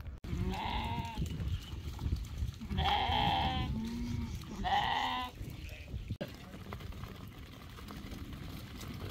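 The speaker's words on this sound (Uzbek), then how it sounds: "Sizlarga ana shu qo'ylarni mana bu molimizni video obzorini qilib berishga." Sheep in a livestock yard in Jizzakh bleat loudly three times, close by, over a steady background of farmyard noise.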